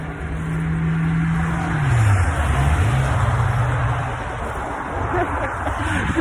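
Cars passing on a road nearby, a steady engine drone that swells in the middle as vehicles go by, with a low pitch sliding down like a passing engine, continuous wideband road noise throughout.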